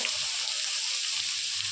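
Chopped carrot fries in hot oil with garlic, giving a steady bright sizzle and hiss close up, joined by a few soft low bumps, with no one speaking.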